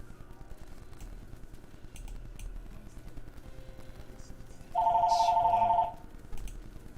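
A telephone rings once, a trilling electronic ring lasting about a second over a steady room hum and faint background clatter.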